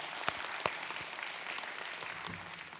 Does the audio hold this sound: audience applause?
yes